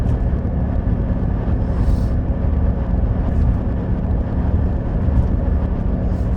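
A 1996 Buick Regal with the 3800 engine accelerates through its gears, a loud, steady low drone heard from inside the car without any talking.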